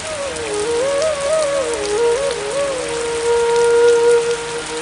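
Steady, dense rain falls continuously, a loud even hiss with a soft wavering melodic tone running over it throughout.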